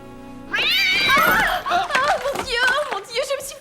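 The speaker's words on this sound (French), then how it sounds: "C'est un chat." A cat meows loudly and drawn-out a couple of times nearby, with a wavering, whiny tone.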